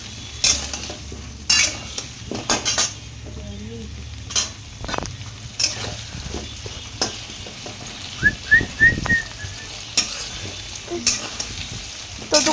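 Goat meat frying in a pan at home for a curry, with a soft steady sizzle under repeated scraping and clinking stirs of a utensil, close up, plus brief whistle-like tones.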